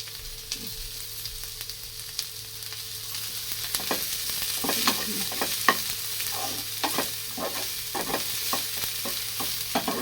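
Chopped onion fries and sizzles with browned garlic in a pan, a steady soft hiss broken by scraping and clattering stirring strokes.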